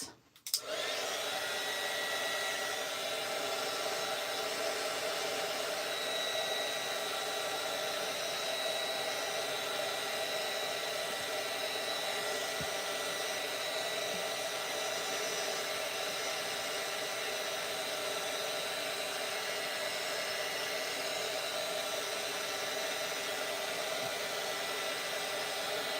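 A hair dryer blows on overly sticky tape during a painting session, clicking on with a brief thump and then holding a steady, even whirring hiss close by for the whole stretch, with no talking.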